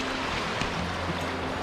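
River water flowing steadily at a popular tourist spot near Coimbatore, a continuous broadband rush with a low undertone, close and fairly loud throughout.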